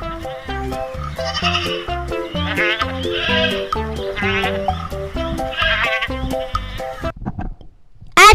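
A goat bleats over a bouncy children's alphabet song backing, the calls wavering and repeated, with the tune carrying on throughout at moderate loudness.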